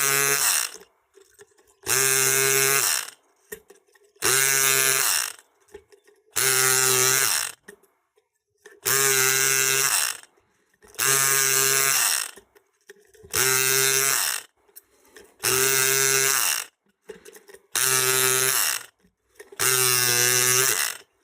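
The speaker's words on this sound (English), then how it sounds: "It'll electric pick them in place in sequence, just as we do when single pin picking." An electric lock pick gun buzzes against the pins of a pin tumbler lock, running in roughly ten loud, harsh mechanical bursts of about a second each, separated by short pauses, close up with no speech.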